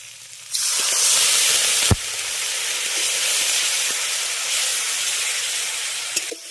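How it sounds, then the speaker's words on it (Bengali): A loud, steady sizzle and hiss as water hits spice paste frying in a pan for a Bengali katla fish curry, rising abruptly and continuing throughout with a few faint clinks. "এবার জল দিয়ে মশলাটাকে খুব ভালো করে কষিয়ে নেব"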